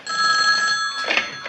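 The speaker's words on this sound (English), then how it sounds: "That's my phone." A telephone rings with a bright, trilling bell that holds steady before breaking off, close and loud with no talk over it.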